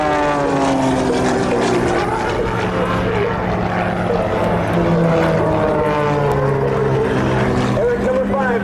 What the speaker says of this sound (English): Look as Eric shows the incredible power and precision of the Extra 300 during the torque roll.